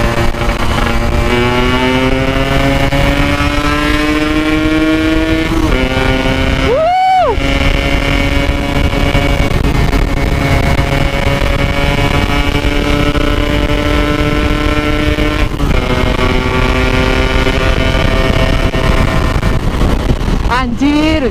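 An RX Special 115cc motorcycle, stock and fitted with a smaller gear for top speed, revs hard with a rising buzzy engine note that climbs through gear changes, loud and close, with wind roar and a voice over it.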